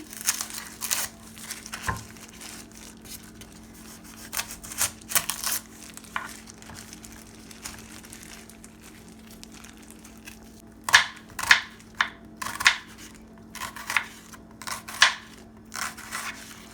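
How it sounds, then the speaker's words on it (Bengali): A knife cuts onions on a board for an egg roll, producing irregular crisp crunching strokes, sparse at first and then quicker bursts, close up with a faint steady hum underneath. "প্রথমে আমি পেঁয়াজটাকে কাটছি।"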